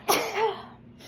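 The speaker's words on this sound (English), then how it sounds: "hang on, have to sneeze." A single sneeze from a person, sharp and close, with a quick burst followed by a short trailing exhale, alone in a quiet room.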